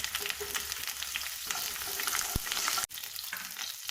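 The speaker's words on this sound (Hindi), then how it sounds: "ताकि ये क्रिकल हो जाए। ताज़ा करी पत्ता डालेंगे।" Fresh curry leaves crackle and sizzle in hot oil in a pan, a continuous close, steady frying hiss with bright spattering pops, no voices.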